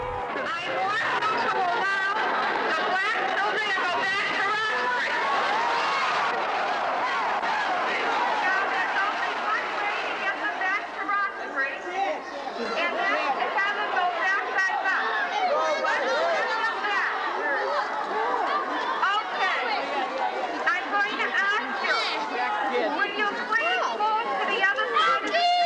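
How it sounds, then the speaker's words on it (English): Crowd of South Boston residents massed around a school during a busing confrontation, a loud, continuous babble of many voices with shouts rising and falling throughout, close and dense with no pause. "Louise Day Hicks appealed to the crowd."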